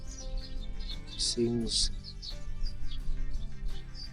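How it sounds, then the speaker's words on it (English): Birds chirp and squabble in a village yard near a lemon tree in Lusaka, Zambia, with brief bright calls bursting out among steady background noise while a person talks. "You can hear some birds guys, some birds are fighting."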